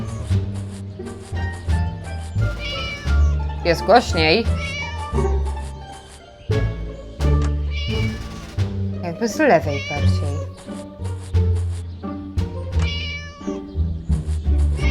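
A trapped cat in the video game Scary Teacher meows repeatedly in drawn-out, wavering cries, some sounding like distressed yowls. A person talks over and between the calls.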